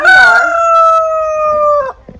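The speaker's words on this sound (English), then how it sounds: "My very upset roosters." A single loud rooster crow rings out close by, a long sustained cock-a-doodle call that cuts off sharply near the end.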